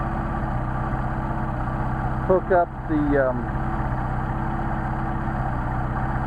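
A Mercedes 190SL engine fitted with Solex carburetors idles at a steady, even hum close by, with a brief burst of someone talking partway through.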